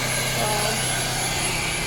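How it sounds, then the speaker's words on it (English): An air pump runs on the cooling system of a Peugeot 307 with the EW10J4S engine, making a loud, steady, droning whir that fills the space without a break. "So right now the air pump is running"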